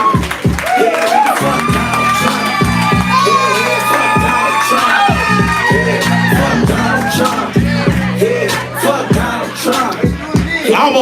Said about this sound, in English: Make some noise for the poet!